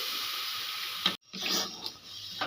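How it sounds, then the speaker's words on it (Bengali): Boiled and cooled milk poured into a sweet rice-cake payesh: a steady liquid pour with a brief break midway, then resuming more softly, close and clear with no talk. "এবার আমি দিয়ে দেব দুধ আমি এই দুধটা জাল দিয়ে ঠান্ডা করে নিয়েছি"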